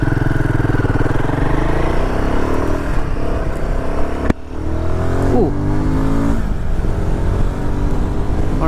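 A Royal Enfield Himalayan 450 ridden in performance mode, its engine note climbing loudly through the revs, dipping briefly at a gear change, then pulling hard again with wind rush throughout.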